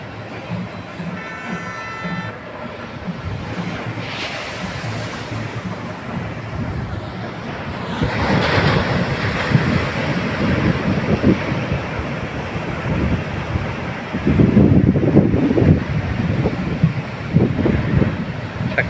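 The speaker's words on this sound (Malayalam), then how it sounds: "ശക്തമായ കടല കേട്ടോ." Strong waves breaking on a rough sea at Azhikkal in rainy, windy weather. A constant roar with wind buffeting the microphone, and louder surges of crashing surf arriving twice, heard alone without talk.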